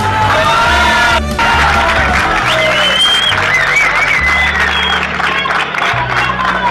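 Crowd applauding to mark Martín's final match, a sustained loud wash of clapping with scattered shouts and cheers running throughout.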